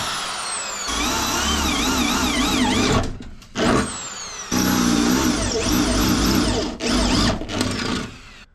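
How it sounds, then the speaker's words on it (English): A power drill bores out spot welds on a bracket of a Mk2 Ford Escort, whining loudly in several long bursts separated by brief pauses, close up with metallic ringing overtones. "drill out all the spot welds successfully"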